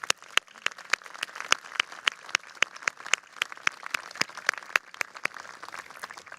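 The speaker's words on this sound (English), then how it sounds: "Round of applause." Sparse, crisp hand claps at a Trinity College commencement ceremony, sharp individual claps at a steady pace over a soft bed of wider audience clapping, moderately distant in a large space.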